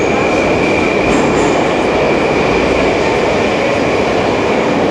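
A metro train in a station in Tashkent, heard as a loud, steady rumble of rolling carriages with a faint high whine, close and continuous for the whole stretch with no voices.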